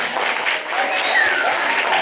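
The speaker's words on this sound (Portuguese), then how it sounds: "Vamos aplaudir o sétimo." A crowd at a school carnival bloco applauds the seventh-grade class, with a noisy wash of clapping mixed with voices and a thin whistle tone, all close and fairly loud for a couple of seconds.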